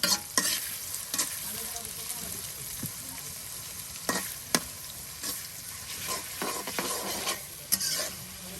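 Food fries in a large amount of oil for an Eid village meal, with a constant close sizzle and several crisp stirring clatters scattered throughout.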